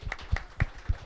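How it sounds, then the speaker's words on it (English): A few sharp hand claps in a podcast studio, four evenly spaced claps, close and dry, with no voices over them. "Round of applause to the Rangers."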